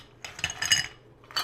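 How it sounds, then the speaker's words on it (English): Ice cubes dropped into a cocktail mixing glass while making a Sazerac, a few bright clinking knocks in two short bursts, close and fairly quiet. "I'm just going to drop a little bit of ice in the mixing glass"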